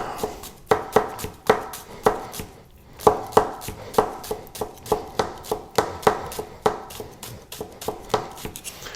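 A Chinese cleaver mincing on a cutting board, striking in quick, even, repeated chops for several seconds, close and crisp with no talking.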